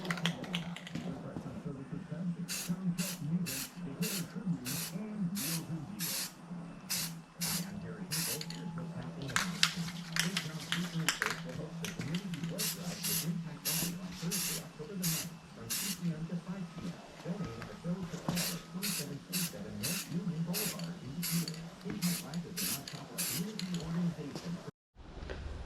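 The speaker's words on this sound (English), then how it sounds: "Top coat going on." Spray paint hisses on as a top coat over a part from a 1983 Yamaha Tri-Moto YTM200 three-wheeler barn find, in many quick, close bursts of varying length, with a low hum underneath and no speech.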